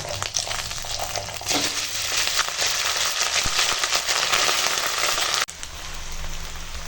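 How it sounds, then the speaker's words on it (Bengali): Cashews, raisins and bay leaf fried in hot fat for Basanti pulao with Masuri rice are stirred, making a loud, dense rain-like sizzle that softens abruptly near the end. "দিয়ে একটু তেলের উপর এগুলো নেড়ে নেব দিয়ে এখন ভাতটা দিয়ে দেব"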